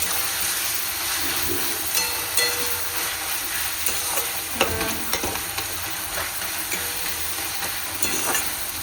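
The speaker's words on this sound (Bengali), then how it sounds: "পেঁয়াজ আর টমেটোর সাথে চর্বিটা দিয়ে দিয়েছি" Mutton fat frying with onion and tomato in a pan, a steady close sizzle with occasional scraping stirs, no talk.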